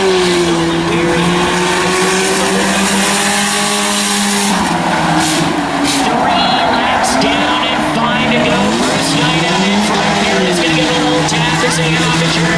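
Race cars in a claimer race roar around a short track, engines droning loud and close with pitch sweeps as they shift and pass, while an announcer calls the action over them.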